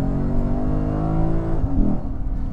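A Lexus IS F engine revs hard through a rumbling aftermarket exhaust with a muffler delete, its pitch climbing as the car accelerates, loud and close, with a brief gear-change dip.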